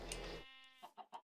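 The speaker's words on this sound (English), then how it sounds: "We need to corral some of these sheep too." Sheep bleating in Minecraft, a short harmonic bleat followed by a few quick choppy bleats, fairly quiet and alone.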